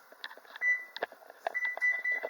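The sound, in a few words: oven timer beeping as it is set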